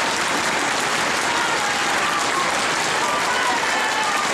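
Audience applause rings out in a talent-contest semifinal as the crowd votes for a contestant, dense, continuous clapping filling the room with some crowd noise mixed in.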